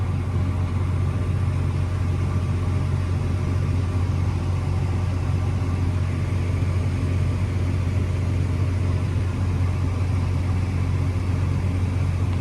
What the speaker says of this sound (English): We got a combine and a chopper running at the same time.